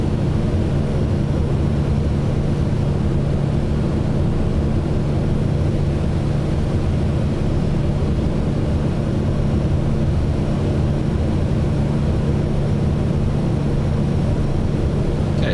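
A Pilatus PC-12 turboprop cruising in flight in the simulator MSFS 2024, a steady, loud engine drone with a constant low hum that stays unchanged throughout, with no talk.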